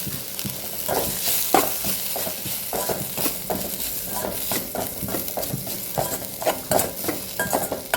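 Ground coconut paste stirred through a frying pan for a thoran: a dense, continuous sizzle under rhythmic scraping strokes of a spoon against the pan, fairly close and with no voices.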